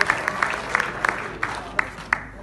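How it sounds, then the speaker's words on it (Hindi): An audience at an evening gathering gives scattered, moderately close applause, with sparse individual claps over a low crowd murmur. "लगा दें तालियां"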